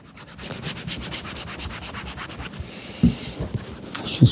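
Grease being rubbed by hand into old leather boots, a steady rhythmic scrubbing and rubbing close by, with brief pauses and a few louder strokes near the end, no voices.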